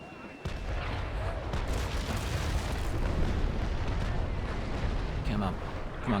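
Ship cannons fire in the naval game Naval Action, a dense rolling barrage of booms layered into a continuous roar of battle that lasts throughout, with a voice talking faintly underneath.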